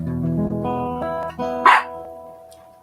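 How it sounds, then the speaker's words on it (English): A dog's short barks and yips up close, a few sharp bursts with a brief whine in between, no talking. "He's barking at the potato in his bed."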